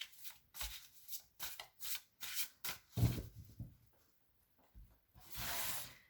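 Tarot cards being shuffled for a reading, a series of quick papery riffles and slides in bursts, then a pause and a longer hissing shuffle at the end, close and fairly quiet with no talk.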